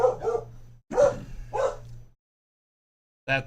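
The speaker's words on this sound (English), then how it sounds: "I don't know what he's barking at now." A dog barks in short bursts, a few sharp yips close by, separated by pauses, with a brief spoken word between them, during an eastern Kansas thunderstorm weather update.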